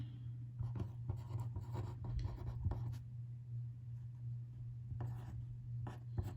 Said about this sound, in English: so we're going to draw 2 circles. With radius ST.